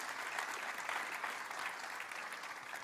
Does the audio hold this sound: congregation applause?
yes